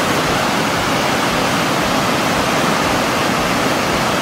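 Loud, constant roar of Westmorland Falls after a week of heavy rainfall, a dense rushing wash of water with no breaks, heard up close.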